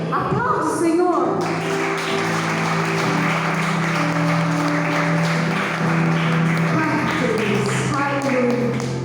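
Church congregation applauding, a steady wash of clapping beneath sustained tonal sounds like music or voices, continuing evenly throughout.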